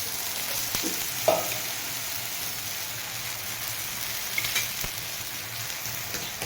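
Dhapati flatbread roasts on a pan over a gas stove, giving off a soft, steady sizzle with a few faint clicks and no voices.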